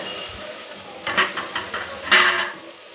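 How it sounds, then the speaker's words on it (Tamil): A rice dish is stirred in a cooking pot, with several scraping, rattling strokes of a utensil against the pot over a quiet background, bursts coming in uneven pulses close up. "அதுக்கப்புறம் இப்போது கிண்டி பார்ப்போம்."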